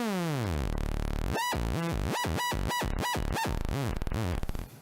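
An electronic modular synthesizer oscillator tone glides downward in pitch, then breaks into a fast series of rhythmic pulsing bursts, loud and steady with no voices.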